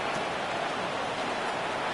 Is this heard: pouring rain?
yes